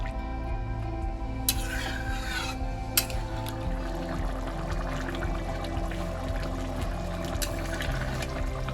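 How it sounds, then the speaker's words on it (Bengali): Water is poured into a pan of sautéed prawns with pointed gourd and potatoes for a Bengali curry, a brief splashing rush early on over a continuous low background hum. "এবার আমি এর মধ্যে জল দিয়ে দিচ্ছি।"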